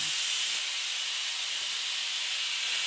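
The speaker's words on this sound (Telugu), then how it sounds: "ఉడుకొచ్చేసింది ఓ పక్కన, అండ్ మంచి అటికలో వండుతున్నాం చేపల పులుసు" Fish curry (chepala pulusu) boils in a clay pot, giving a steady, close, broadband hiss of steam and simmering that holds at an even level throughout, with no voices.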